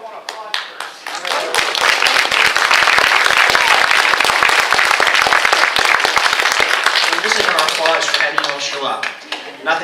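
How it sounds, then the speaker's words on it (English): Loud, sustained applause from an audience fills the room, dense clapping that swells and holds for several seconds before thinning out near the end, after an Aiki Toho demonstration at the University of Florida. "But if you have to go, I want to applaud first."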